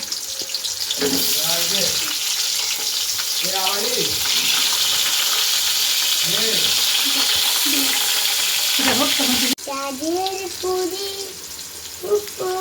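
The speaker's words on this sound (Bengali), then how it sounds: "আমাদের এখনো পটল ভাজাটা হয়নি, পটল ভাজা হবে" Pointed gourd (potol) fries in a pan with a steady hissing sizzle, while voices talk intermittently over it; the sound shifts abruptly near the end.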